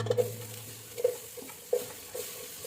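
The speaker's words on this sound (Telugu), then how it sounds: "ఆయిల్ వేసుకున్నాక బాగా మరిగిన తర్వాత మనం కట్ చేసుకున్న ఆనియన్స్ వేస్తాం ఇందులో" Chopped onions going into hot oil in a cooker, a quiet steady sizzle with a few stirring scrapes and clinks of a utensil against the pot, heard up close with no talking.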